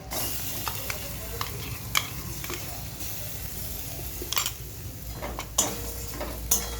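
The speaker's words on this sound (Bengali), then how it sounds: "ডুমুর বাটাটা দিয়ে ভালো করে কষিয়ে নিয়ে" A spoon scrapes and stirs fig paste sautéing in a pan, a steady low sizzle broken by sharp intermittent clacks against the metal, close by with no talking.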